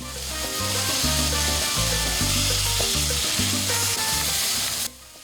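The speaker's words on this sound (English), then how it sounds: "Slide the minced pork in and let it sit for 30 seconds to a minute" Minced pork sears in a hot pan for Thai stir-fried pork with holy basil, giving a loud continuous sizzle over a rhythmic musical backing that cuts off abruptly near the end.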